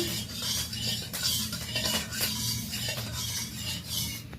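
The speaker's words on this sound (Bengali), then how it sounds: "তেলটা একটু নেড়ে নিচ্ছি।" Cooking oil being stirred in a hot pan before frying potatoes for a ridge gourd curry: a soft, continuous sizzle runs under faint, rhythmic scraping strokes of a utensil against the pan.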